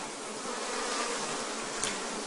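Honeybees buzzing at the hives during a colony inspection, a steady dense hum holding evenly throughout with a brief louder swell near the end, no talk.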